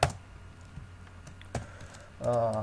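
Quick keystrokes on a computer keyboard as Java database code is typed in NetBeans 8.2, a few scattered clicks, then a louder burst of rapid taps near the end, close and fairly quiet.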